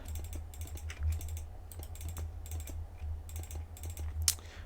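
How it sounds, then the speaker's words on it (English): Computer mouse clicking at a desk during Minecraft play, rapid light repeated clicks in irregular bursts over a low steady hum, close and with no talk. "what you can hear right now is my mouse clicking"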